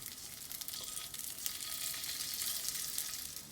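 Pork belly slices fry in a dry skillet with no oil or butter, producing a continuous soft crackling sizzle with fine pops, fairly faint and steady throughout.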